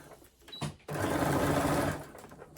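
A sewing machine stitches a crossbody bag panel into the bottom panel in one steady burst of about a second, whirring up quickly, preceded by a few small clicks and handling noises.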